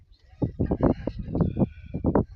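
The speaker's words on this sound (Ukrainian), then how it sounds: "чуєш, кругом кричать півні" Several roosters crow in quick, irregular succession nearby, loud squawking cries that overlap at moments, with no talking.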